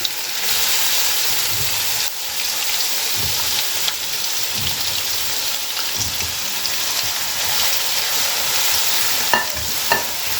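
Finely chopped onions frying in a pan with cumin, a dense continuous sizzle like rain on a surface, close and fairly loud, broken by occasional spoon scrapes and knocks, with no voices.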